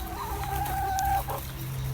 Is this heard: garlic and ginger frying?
no